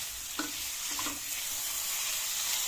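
Chopped tomatoes frying in a spice masala for vegetarian khichuri, a steady soft sizzle with faint clinks of a spoon near the start.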